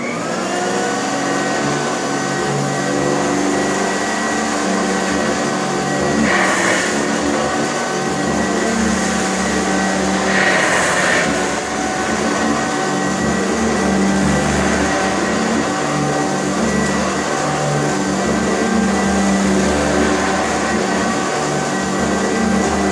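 A Eureka C2094 type G-1 upright vacuum cleaner runs continuously, making a loud, steady motor whine and airflow roar up close with no voices.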